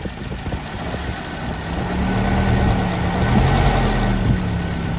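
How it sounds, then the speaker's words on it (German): An original 1960 Citroën DS engine runs up close with its hydraulic pump working, a steady mid-low drone that swells slightly as the throttle is blipped, with no talking. "Um den schönen Motorlauf zu hören von diesem originalen Fahrzeug, gehe ich jetzt mal etwas näher ran,"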